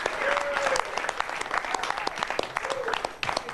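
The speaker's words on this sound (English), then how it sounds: "let's give a big round of applause to John Peterson for all his efforts" Applause for John Peterson in a meeting room, a modest group clapping steadily and fairly close, with a faint voice briefly audible beneath the claps.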